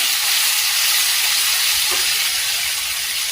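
Garlic, onion and tomato paste with a pinch of asafoetida and bay leaf sautéing in a pan for egg curry, a steady loud hiss of sizzling throughout with no voices.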